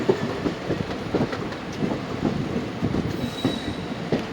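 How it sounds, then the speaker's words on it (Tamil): Passenger train 56707 from Kanyakumari to Tirunelveli rolls into the first platform at Nagercoil Junction with rhythmic wheel clatter over rail joints, brief metallic squeals and a steady rumble, heard close from on board. "பிளாட்ஃபார்ம்குள்ளே ட்ரெயின் வந்துச்சு"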